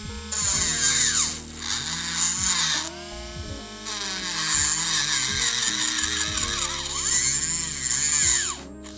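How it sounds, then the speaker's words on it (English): A drill bit from an Amazon Prime set spins at higher RPM, loud whining bursts that rise and fall in pitch as the bit bites and eases off, with brief pauses between runs. "now let's go ahead and put it on a higher RPM and see what this baby could do"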